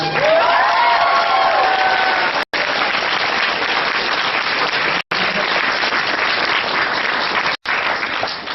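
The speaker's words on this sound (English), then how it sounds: "a round of applause for the cosplay" A large crowd at a New York Comic Con 2011 presentation applauding cosplayers loudly and steadily, dense clapping with a few whoops and cheers, cut by brief gaps of silence.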